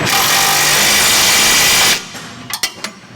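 Power tool tightening a lower control arm bolt on a 2007 Volkswagen Rabbit during a rear coilover install, a loud steady whir for about two seconds that cuts off, followed by a few sharp metallic clicks.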